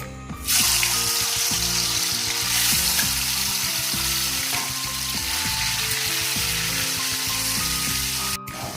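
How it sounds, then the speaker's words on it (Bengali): Steady, loud sizzling of chicken frying in hot oil, continuous and close, with a brief clatter near the end. "তো একই তেলে চিকেনটা ভেজে নেবো।"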